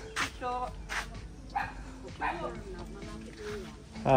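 A dog gives repeated short barks and yips outdoors in a rural farming area, with people talking throughout.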